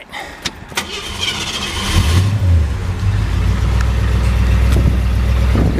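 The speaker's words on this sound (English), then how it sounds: "I'll go ahead and fire this one up for you" A 1966 Mercury Monterey convertible's engine cranks briefly and catches, then settles into a loud, steady, rumbling idle close by, with a few light clicks before the start.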